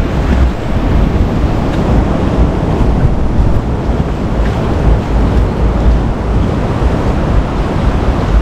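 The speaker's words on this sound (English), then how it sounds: "The ocean still on its way back in, I think." Ocean waves roll steadily onto Dreamland Beach in Bali, a loud continuous surf wash with wind buffeting the microphone throughout and no voices.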